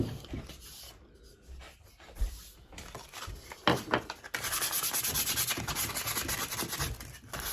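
A scratched lid hand sanded with 150 grit sandpaper: quiet, close, scattered rubbing strokes at first, then a steady continuous scrubbing rasp for the last few seconds.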